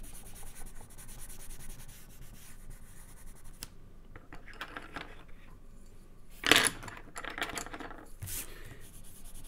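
Pencils or markers rubbing and scratching across a cardboard toilet roll while coloring a reindeer craft, a steady soft scribbling close by with a brief louder tap or clatter midway.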